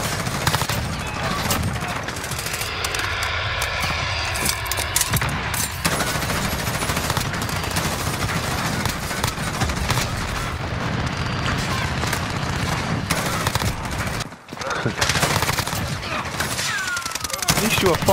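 Enemy gunfire in a first-person shooter game with an M4A1 rifle, sustained rattling automatic bursts and booming shots almost nonstop, loud and close, with a brief lull near the end and voices speaking intermittently.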